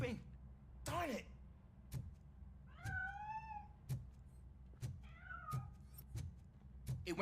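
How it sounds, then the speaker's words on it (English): A cat hiding inside a piano meows in short rising calls, several spread across the clip amid intermittent thumping knocks and faint background sound. "That cat must be hiding inside."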